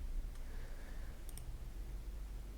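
A few sharp computer mouse clicks, close and crisp, sounding in quick pairs against a faint steady background hum, with no talking.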